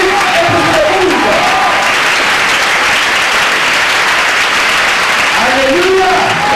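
A church congregation at the close of a convention breaks into loud, sustained applause and cheering, a dense wall of clapping that holds steady throughout, with brief voices rising over it near the start and end.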